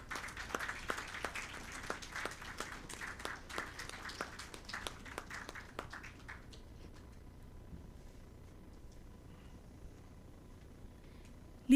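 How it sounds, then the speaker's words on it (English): Applause from a conference audience welcoming a guest, fairly faint and scattered claps for about six seconds before fading to a quiet room. "A huge round of applause, please."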